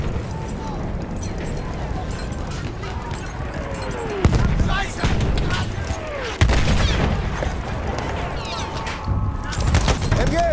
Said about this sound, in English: MG, feindlich!